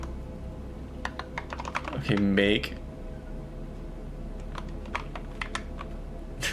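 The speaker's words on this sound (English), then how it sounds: "Dude, I'm typing this, man." Rapid clicking keystrokes on a computer keyboard during a stream, a steady run of sharp taps close to the mic, briefly broken by a short spoken word partway through before the typing resumes.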